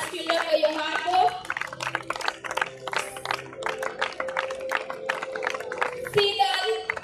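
Scattered hand claps from a group of children ring out in an uneven patter at an awards moment, with voices chattering throughout and a louder burst of clapping near the end.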